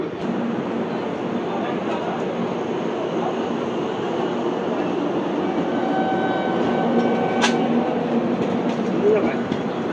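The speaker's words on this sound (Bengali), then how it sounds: "train number 22512 down Kamakya Lokmanya Tilak Terminus Karmabhumi Express is arriving on platform number 4" The Karmabhumi Express pulls into a platform at Dankuni Junction, a long steady rumble of rolling rail cars with faint wheel clatter and a short squeal, while people talk over the noise.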